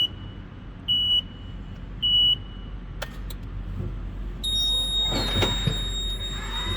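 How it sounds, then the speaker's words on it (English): A VNA turret truck forklift sounds warning beeps from its enable switch: two short steady beeps, then clicks and a sustained higher alarm tone over a low machine hum. "All that beeping is because I was stepping on the enable switch."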